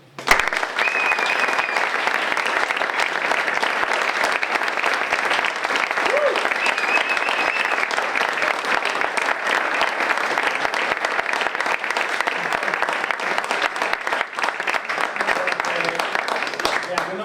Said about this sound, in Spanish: un fuerte aplauso para Miquel y para Mame